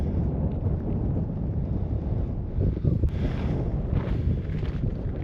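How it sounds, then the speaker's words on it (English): Strong wind in Death Valley near Owlshead Slot Canyon during dust storms, blasting the microphone with heavy low rumbling buffeting that stays loud and continuous, with gusts swelling near the middle and end. "You can see how windy it is out."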